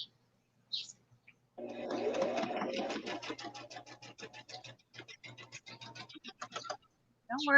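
A sewing machine stitches through paper for paper quilting, a close rapid mechanical chatter running for several seconds between brief quiet gaps.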